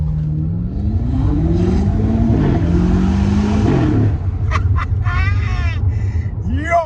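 BMW M8 Competition exhaust roaring under hard acceleration, a loud rising engine note climbing through revs before a gear change, followed by sharp crackles and pops from the exhaust, heard close from inside the car.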